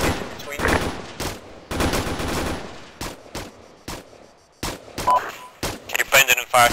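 Bursts of rapid rifle fire from a section of soldiers in the ArmA 3 video game, loud and close, coming in several separate volleys with short pauses between them.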